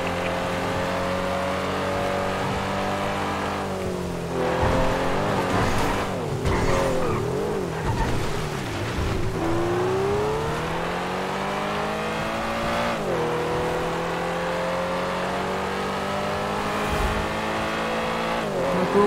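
A Lamborghini driven in a GTA role-play game roars continuously and loudly, its engine pitch sweeping up and down through gear changes with bursts of tire squeal, with no talking over it.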